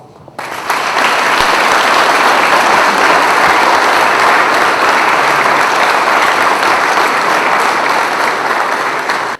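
A large indoor gathering at a reception for Gabon's national football team, the Panthères, bursts into loud, sustained applause, a dense unbroken wash of clapping lasting several seconds.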